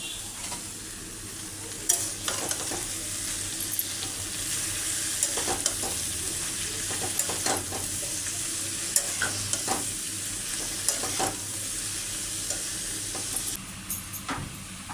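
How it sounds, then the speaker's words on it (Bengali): Cabbage frying and being stirred in a pan, a steady sizzle under repeated scraping strokes of a spatula, close and continuous for the whole stretch with no voices. "আমি বাঁধাকপিটা এখন ভেজে নেব"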